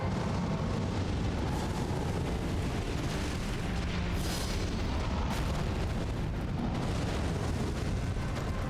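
A Fire Giant in Elden Ring unleashes a fire breath attack, a dense, roaring burst of flame that rumbles loudly and steadily for several seconds with no speech over it.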